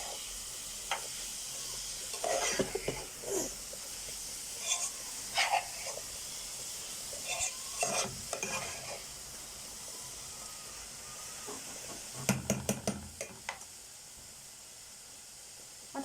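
Chopped onion softening as it fries in a pan for a Ramadan meal: a steady hiss runs under scattered clinks and stirring scrapes, with a louder burst of utensil clatter near the end.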